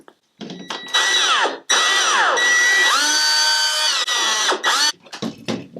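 Whining electric drill tones picked up by guitar pickups come through an amplified, electric-sounding signal, rising and falling in bursts with short gaps between runs.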